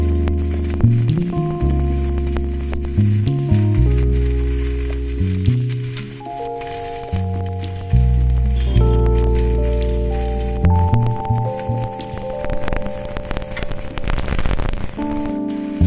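Chopped onion frying in mustard oil with nigella seeds and bay leaf for an egg dish, a continuous crackling sizzle throughout, heard under tonal background music.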